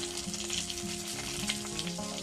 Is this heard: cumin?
yes